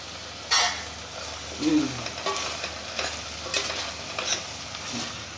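Tomatoes are stirred in a hot pan, giving soft scraping strokes over a steady low sizzle, close by and moderate in level.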